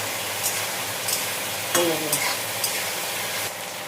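Potatoes going into a pan of frying shrimp: a constant sizzle with several short scraping stirs and one louder burst as the potatoes hit the hot oil.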